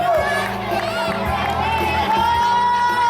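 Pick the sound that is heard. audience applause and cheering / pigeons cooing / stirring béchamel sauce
audience applause and cheering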